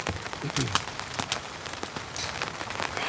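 Rain falling on a campsite in cold, humid winter-storm conditions, a steady patter with scattered sharper drops close by, continuing throughout.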